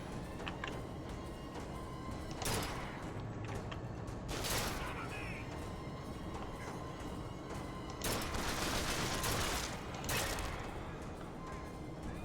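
Gunfire rattles through a Bioshock Infinite firefight in several loud, noisy bursts that rise and fall over about twelve seconds against a dense background of game sound, with no talking.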